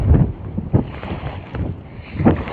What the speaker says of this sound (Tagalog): Dahil medyo malakas po ang hangin.